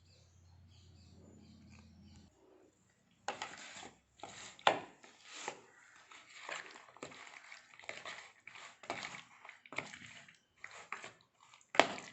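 About a kilogram of fish is mixed with a spicy masala for frying, a close series of wet, squelching rubs and pats in an irregular rhythm after a short quiet hum at the start.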